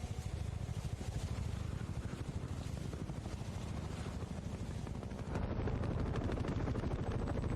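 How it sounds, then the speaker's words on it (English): Loud, steady helicopter rotor chop fills the whole stretch, a dense rhythmic thudding that swells slightly louder near the end, with sharp bursts mixed in. "A CRM helicopter appears"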